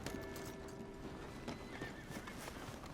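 Horse hooves clip-clop in Red Dead Redemption 2, a quick irregular run of sharp close knocks under faint ambient hum, with a horse's whinny mixed in.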